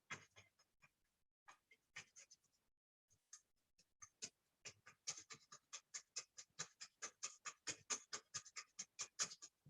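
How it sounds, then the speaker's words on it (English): Rapid forceful breaths drawn in through the nose during a yoga breathing exercise, a quick steady train of short sniffing bursts that starts sparse and grows into an even, fast rhythm, close and fairly loud. "Breathing in through the nose as rapidly as you can"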